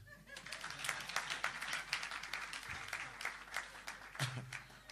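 An audience applauds after being invited to clap for someone at a spiritual talk, the dense clapping steady and moderately loud throughout, with a brief low voice near the end.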